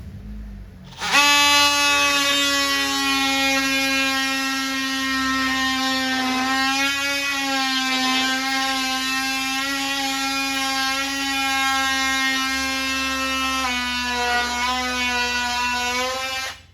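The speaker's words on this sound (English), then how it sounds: "I'm going to use my little multi-tool to take this corner out." A small oscillating multi-tool cuts the corner out of a delaminated arcade cabinet panel, giving a loud, steady, buzzing whine that starts abruptly and holds for about fifteen seconds with slight pitch dips as it bites.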